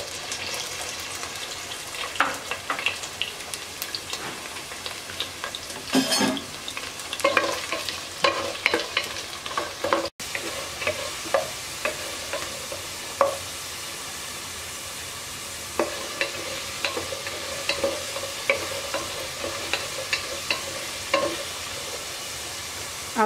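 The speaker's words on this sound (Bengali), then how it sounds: "তেলটা গরম হয়ে গেছে, আলু দিয়ে দিচ্ছি।" Potatoes frying in hot oil in a wok make a continuous sizzle broken by frequent scraping stirs and clinks, close and fairly loud with no voices.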